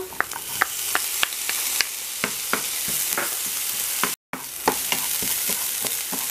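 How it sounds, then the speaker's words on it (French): Onion and red bell pepper sauté in a pan for mozzarella rice croquettes, giving a steady close sizzle broken by sharp spoon taps and stirring clicks, with a momentary dropout midway and no talking. "On va faire revenir jusqu'à ce que l'oignon ait une couleur translucide."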